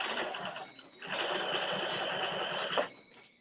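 A sewing machine runs a seam down a dress from the armhole toward the skirt, its close, steady whirring stitch rising after a brief slower start, then stopping near the end.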